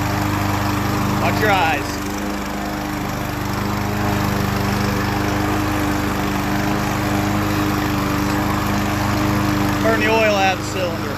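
A small lawn mower engine runs loudly and steadily after being primed, its constant buzz holding throughout while a voice speaks briefly over it.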